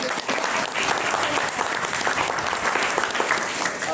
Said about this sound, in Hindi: और ये तालियां जो है आप लोगों के लिए है।